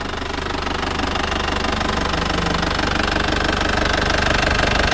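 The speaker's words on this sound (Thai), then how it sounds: "นี่ครับเครื่องยนต์ทำงานปกตินะครับ" A 1995 Isuzu TFR pickup's diesel engine idles with a steady, rapid knocking clatter, close and continuous throughout, with no talk.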